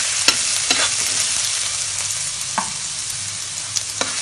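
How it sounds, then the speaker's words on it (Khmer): Garlic frying in hot oil in a wok, a continuous close sizzle broken by sharp scrapes and stirring clicks at irregular intervals, with no talking. "យើងដាក់ប្រេងឆាដាក់ខ្ទះក្តៅហើយយើងបំពងខ្ទឹមសមក"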